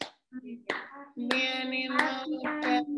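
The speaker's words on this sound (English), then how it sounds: "If you're happy and you know it, clap your hands." Children clap their hands and sing along to "If You're Happy and You Know It" during an online class, with sharp claps breaking between tuneful voices.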